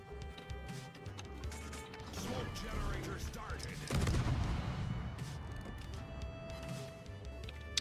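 Warship naval guns firing in World of Warships, heard as a rumbling barrage of booms and crashes over a continuous mechanical game soundscape that swells toward the middle, with faint background game noise throughout.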